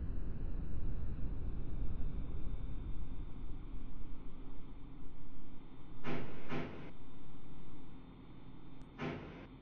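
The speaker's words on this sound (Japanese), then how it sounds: "The doors are closing." Train doors in a Roblox game slide shut, two quick bursts followed by a third a few seconds later, heard over a steady low rumble of the train interior with no talking.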